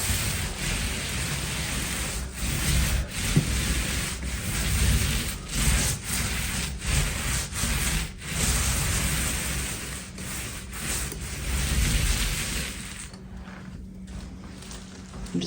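A paint roller spreads blue paint across a wall in a spare room. A continuous wet, sticky hiss pulses with each stroke, close and even, then trails off at the end.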